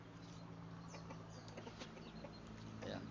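Rhode Island Red chickens clucking steadily in a coop, with scattered clucks and wing flaps rising over a constant hum, fairly close.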